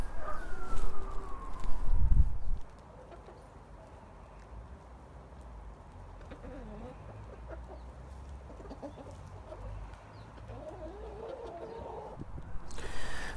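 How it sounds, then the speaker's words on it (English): Backyard chickens in a garden plot cluck faintly, and there is a louder burst of noise early on followed by quiet outdoor ambience with soft bird calls. "5 chickens that we currently have"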